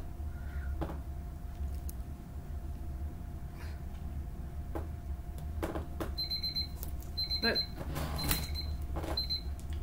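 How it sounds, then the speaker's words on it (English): An electronic kitchen timer beeps in short, high, repeated bursts over steady low room hum and scattered clicks while someone is making a resin heart necklace. "That's my timer for something."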